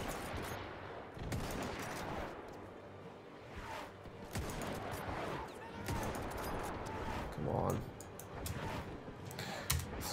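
Rifle fire rings out in Mount & Blade: Warband as a fairly quiet, continuous battle din of scattered shots and crackling volleys at mid distance, with a sharper report near the end.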